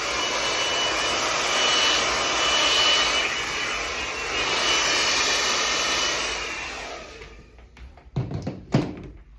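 A hair dryer blows with a steady, loud whooshing roar during a men's haircut, then shuts off, followed by a couple of soft knocks.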